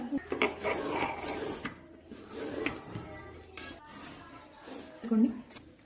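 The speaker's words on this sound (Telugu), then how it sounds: "ఒక షేప్ లాగా కట్ చేస్తున్నాను మధ్యలో." Scissors snip and rasp through paper while tangram shapes are cut from a squared sheet, the scraping strokes coming close and uneven; a person talks faintly in between.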